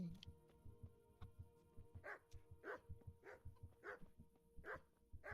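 Dog barking in a video game, a run of sharp barks at a steady rhythm over a low rumbling hum, fairly close and loud with no speech.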